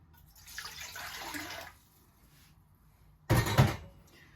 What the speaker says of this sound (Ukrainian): додаю літр води.